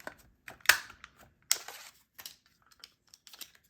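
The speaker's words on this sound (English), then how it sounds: "I'm going to just take my circle punch here" Circle punch cutting a circle from paper for a journaling card, a few sharp clicks and crisp paper snaps close by, with a louder punch click and brief rustles between quiet gaps.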